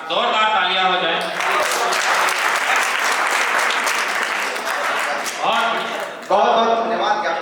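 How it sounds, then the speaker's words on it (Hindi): An audience at a Hindi poetry recital breaks into loud, sustained applause. It swells for several seconds between stretches of someone speaking through a microphone before and after. "जोरदार तालियां हो जाए"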